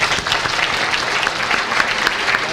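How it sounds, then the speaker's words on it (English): A crowd claps steadily and loudly, a dense continuous applause with no voices. "I would ask that we give a round of applause for all of our sponsors."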